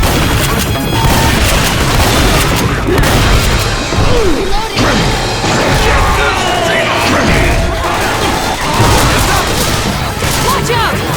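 Left 4 Dead 2 gameplay with booming grenade explosions amid dense gunfire and crashing combat noise, loud and chaotic throughout, with shouted in-game voices mixed in.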